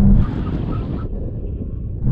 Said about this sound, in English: When we reach the line, full emergency stop.